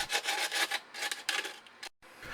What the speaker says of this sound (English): with a final touch-up with some hand sanding.